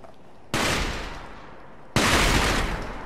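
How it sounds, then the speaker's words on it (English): Two sharp bursts of firecrackers, the second about a second and a half after the first, go off close and loud in the Sekiro: Shadows Die Twice video game, each crackling away before the next. "the firecrackers that they put down"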